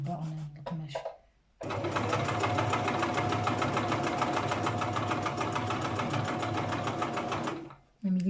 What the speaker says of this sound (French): Je couds sur à peu près 1 mm du bord